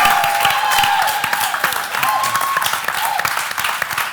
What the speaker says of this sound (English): To everyone that has rocked up and clapped exceptionally well